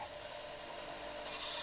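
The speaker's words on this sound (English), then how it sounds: "hold it on the sanding belt" Tungsten rod chucked in a drill and spun against a sanding belt, giving a steady close grinding rasp that turns brighter and harsher near the end.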